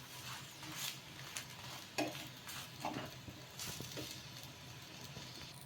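An egg paratha made with maida flour fries on a pan with oil brushed on both sides, giving a soft continuous sizzle with occasional scraping or stirring sounds, close by and without talk.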